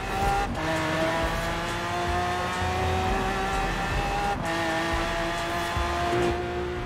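A Maserati Ghibli S Q4 in Forza Horizon 4 launching from a standing start, its engine revving hard in long rising pulls broken by two gear shifts, loud and close with no talk.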